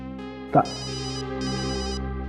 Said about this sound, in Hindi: घंटी तो लैब में बज रही है, मतलब तारिका का फोन यही कहीं है लैब में